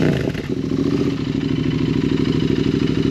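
Royal Enfield Continental GT 650 engine and exhaust, a loud, close, throbbing parallel-twin rumble with steady pulsing beats at idle and light throttle, continuous with no talk.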